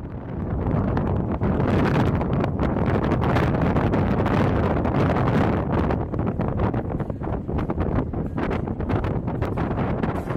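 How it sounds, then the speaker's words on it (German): Icy, stormy wind buffets the microphone in a constant loud roar with gusty rumbling surges, filling the whole stretch without a pause. "Wieder im nicht nur eiskalten, sondern auch stürmischen Wind."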